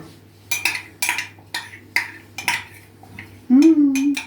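A spoon clinks against a bowl in a steady rhythm, about twice a second, as condensed milk is stirred into the mixture for an Eskimo chocolate cake. A brief, louder tonal sound closes it.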